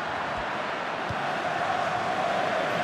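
A steady roar of a stadium crowd in the FIFA 16 football video game fills the clip, a dense continuous murmur with no distinct cheers.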